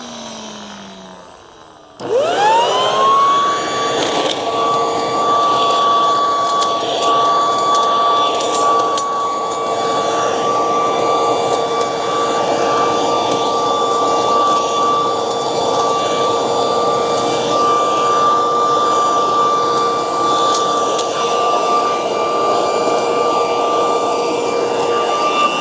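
An electric leaf blower vacuum in mulching mode whirs up sharply and holds a loud, steady high-pitched whine with an airy roar for over twenty seconds, close to the microphone.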